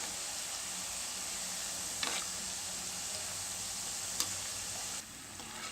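Maida chips fry in hot oil with a continuous, even sizzle and crackle close by, broken by a couple of brief sharp clicks.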